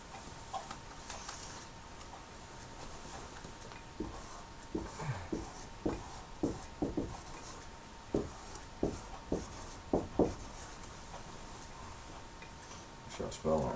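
Marker or chalk writing words on a board in a classroom-style setting, a steady run of short squeaky strokes and taps in irregular bursts, close and fairly clear over a faint background hum.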